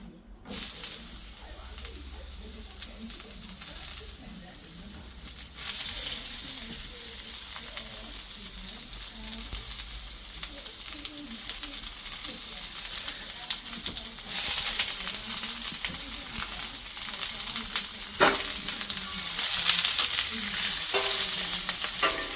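Onions hit a greasy griddle left from cooking chicken burgers and fry with a steady, close sizzle that grows louder after a burst about five seconds in, with occasional scrapes and crackles.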